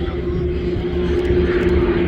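Aircraft of the Jordanian display team setting up for the Hashemite Break at an airshow, a steady loud engine drone with a strong tonal hum, continuous throughout with faint voices mixed in.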